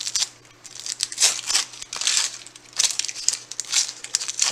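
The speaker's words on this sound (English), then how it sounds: "I cut the bottoms off first and just peel it off." Papery onion skin is peeled away by hand, a close series of dry crinkling and crackling rustles in uneven bursts, heard without speech.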